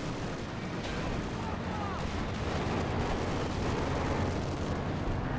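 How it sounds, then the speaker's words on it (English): Sturmovik airstrike in the World War II strategy game Company of Heroes 2, a dense rumble of explosions and gunfire building into heavy bombardment, with a commentator speaking over it. "We have a Sturmovik strike, it looks like."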